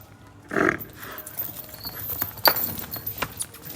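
Buffalo hooves thud and scuff on hard ground as it walks nearby, irregular steps with a brief louder scrape and faint background noise.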